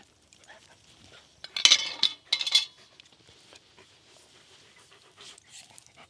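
A dog pants in short, breathy bursts near the microphone at a camp with a Dakota fire pit, mixed with light clinks of cutlery and pots in a quiet outdoor setting.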